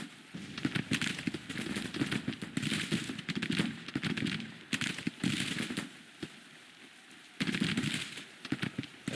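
Crackling volleys of Sharps rifle fire from a Civil War battle in Grand Tactician, a dense popping fusillade at middle distance in irregular waves with short lulls between them.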